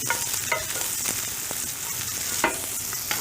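Food gently caramelizes in a cast iron pan as fat renders out, a steady close sizzle broken by repeated scraping and tapping strokes of a utensil stirring, with no voices.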